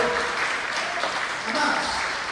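A church congregation applauds during an evening service, a dense, steady wash of hand claps holding at full level from start to end, with a few voices mixed in.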